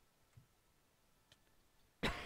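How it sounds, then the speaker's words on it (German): A single short cough bursts out close and loud after near silence with faint ticks, heard during a Minecraft adventure map game session. "Ah, Husten."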